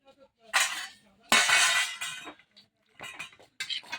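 Dishes and steel cutlery clink and clatter in bursts as rice is served onto plates at a home meal, with short sharp metallic knocks separated by brief quiet gaps and some faint voices nearby.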